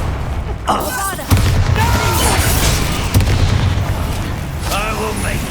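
A Bombarda blasting spell detonates in Hogwarts Legacy with a heavy, booming blast, followed by rumbling debris under continuing voices and combat noise.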